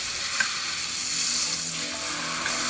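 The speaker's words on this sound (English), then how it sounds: "Sear on all sides, sealing in the juices. I love that sizzle" Beef tenderloin sears steadily in a hot pan, a constant loud hiss with occasional small pops, close by and with no voices.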